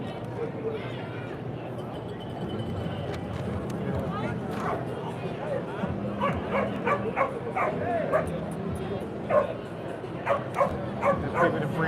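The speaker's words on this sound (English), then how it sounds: "There's people that bring their dogs out here too." Dog barking in Times Square at night, several short yips and barks in the later part over a busy street crowd hum with people talking.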